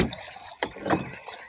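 Water splashes and swishes as a small rowboat moves along, with a few quiet paddle strokes close by.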